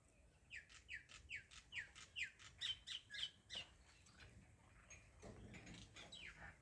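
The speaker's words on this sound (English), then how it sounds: "The birds singing." Outdoors, a bird repeats a sharp squawking call about ten times in a steady rhythm at close range, followed by quieter background noise.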